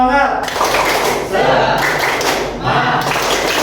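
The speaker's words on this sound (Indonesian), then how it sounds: "Tepuk semangat." A group performs a rhythmic spirit clap in a room, bursts of sharp claps and thuds in unison alternating with voices chanting along, loud and close.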